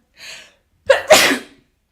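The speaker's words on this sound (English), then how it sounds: "Oh, I'm going to sneeze." A single loud sneeze, with a sharp intake of breath just before it, close to the mic and followed by silence.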